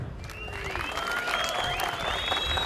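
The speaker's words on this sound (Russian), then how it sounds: "Поприветствуем бойцов аплодисментами." Applause from an audience greeting two fighters at a professional combat event, steady dense clapping filling the hall at moderate distance, with no voices over it.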